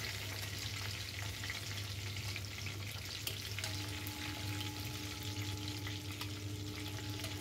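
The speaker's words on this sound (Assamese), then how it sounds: "মাছ কেইডোখৰ মই তেলত ভাজি লম।" Pieces of shol fish frying in hot oil in a wok give a continuous, even sizzle and crackle, close and steady throughout with no voices.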